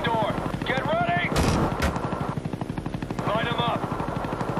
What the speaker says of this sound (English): Friendly Huey inbound.